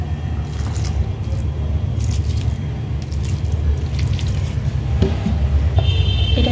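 Water is poured into a soil mix being prepared for winter plants, making steady squishing, sloshing noises up close over a constant low rumble, without any speech.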